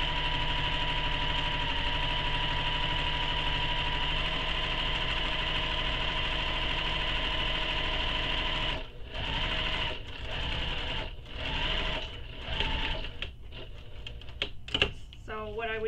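A sewing machine top stitching along the short edge of a handbag runs steadily and close at first, then breaks into shorter start-stop bursts with brief pauses between them.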